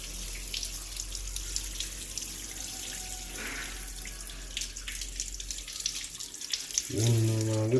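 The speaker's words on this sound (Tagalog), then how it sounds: "Siyempre, huhugasan muna natin para matanggal yung mga maggots yun." Tap water runs steadily while etag, a cured meat, is washed in a sink, a constant close splashing hiss with a louder, fuller rush of water near the end.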